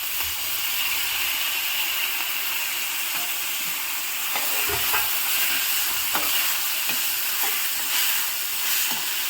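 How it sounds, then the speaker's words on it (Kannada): Onions and tomatoes fry in a pan with a steady broadband sizzle, and a spoon stirs and scrapes through them in scattered soft knocks. The sound stays close and moderately loud throughout, with no voices. "ಅದನ್ನು ನೀಟಾಗಿ ಮಿಕ್ಸ್ ಮಾಡ್ಕೊಂಡು ಫ್ರೈ ಮಾಡ್ಕೋಬೇಕು"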